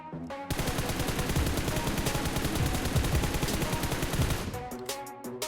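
Rapid automatic gunfire in the PUBG Mobile shooter game, a dense continuous burst of shots lasting about four seconds at steady close loudness, stopping abruptly before a few quieter clicks at the end.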